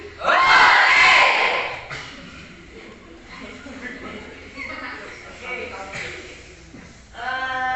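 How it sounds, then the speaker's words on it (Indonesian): Schoolchildren in a classroom sing together in a loud, ragged burst that fades into quieter group voices, then swells again near the end. "Ini kita menyanyi sedikit saja."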